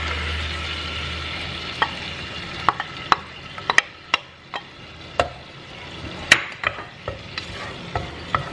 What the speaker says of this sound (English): I'm gonna saute my onions.